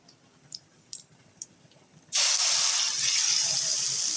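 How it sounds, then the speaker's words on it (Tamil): Water rushes into a mixer jar, a sudden steady gush that starts after a few faint clicks and keeps pouring loudly and close until the end. "நம்ம மிக்சியை கழுவி தண்ணியும் இதிலே ஊற்றிட்டோம்."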